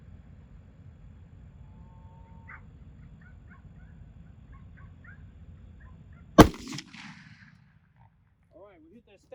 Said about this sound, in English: So we'll load up and take a shot with the Core-Lokt first.